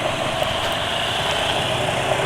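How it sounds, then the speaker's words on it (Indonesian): A big motorcycle engine idles smoothly with a steady, even hum and no changes in pace, close and constant throughout. "Suara mesin tetap halus walau siang"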